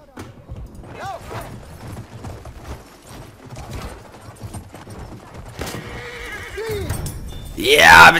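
Horse whinnies in a Battlefield 1 online match, with repeated neighs and galloping clip-clop amid scattered gunfire, building to a loud burst near the end while players talk.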